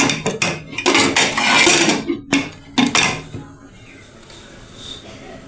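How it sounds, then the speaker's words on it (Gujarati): Metal pressure cooker lid handled and fitted onto the pot over a stovetop with fenugreek seeds inside, giving a run of close clanks and knocks, louder early, then a quieter scrape and a final tap. "હવે આપણે કુકરનું ઢાંકણું દઈ દઈશું આ રીતે"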